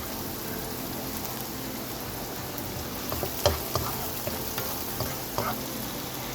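Onion with ginger garlic paste sizzles steadily in a pan, a continuous frying hiss with a few soft stirring clinks and taps toward the end, and no talking.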